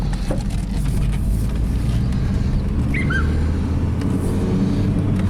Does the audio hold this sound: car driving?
yes